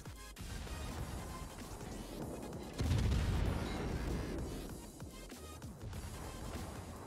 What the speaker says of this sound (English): Let's just shell him endlessly.